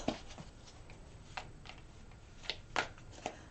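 Tarot cards being shuffled by hand, soft papery riffles and flicks arriving in irregular bursts at close range, quiet overall with short gaps between shuffles.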